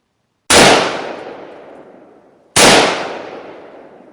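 Two loud rifle shots of .223 rounds fired into a car: the first a polymer-tip round, the second full metal jacket. Each is a single sharp crack with a long decaying echo, about two seconds apart, with no voices.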